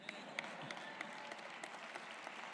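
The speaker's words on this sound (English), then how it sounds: "a round of applause for me for shaking so many hands" Audience applause fills a graduation ceremony hall, a steady dense wash of many hands clapping throughout, with a few sharper claps standing out; no talking.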